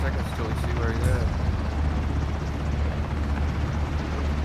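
A video-game helicopter roars loud and steady from start to finish, a dense, continuous rotor-and-engine drone with a person talking over it.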